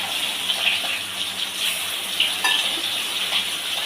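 Fish slipped one at a time into hot oil for macher jhal set off a steady, loud hiss and sizzle with faint crackles, heard alone with no voices.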